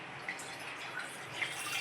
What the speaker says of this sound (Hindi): तो चलिए, इसमें सबसे पहले हम डालेंगे पानी।